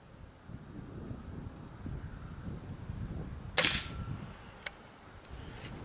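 A Crosman Vantage NP .22 caliber air rifle fires outdoors: one sharp, loud crack stands out over steady wind noise, followed about a second later by a fainter click.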